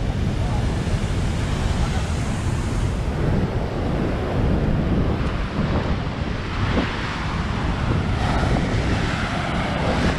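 Sea waves and wind on open water during a Moroccan fishing trip, a steady loud wash of surf and gusting wind buffeting the microphone throughout, with someone talking over it.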